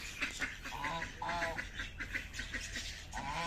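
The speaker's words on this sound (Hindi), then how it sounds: "ये छोटी डक हैं, इनको सबसे पहले दाना डालते हैं हम।" Small ducks quack continuously in a lively cluster at close range while being fed wheat grain, overlapping calls over a busy farmyard background.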